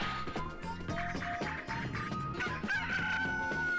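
A rooster crows in the video game Billy Hatcher and the Giant Egg, a clear call rising over busy game music and clucking effects.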